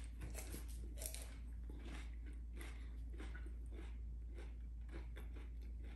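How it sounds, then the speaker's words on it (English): Faint, close crunching bites and chewing of cinnamon sugar Rice Krispies treats, soft repeated crackles against a quiet steady hum, no talking. "You're probably tired of watching me chew."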